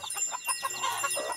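Hens sitting on eggs atop a hut give a quick run of soft, close clucks in a short burst.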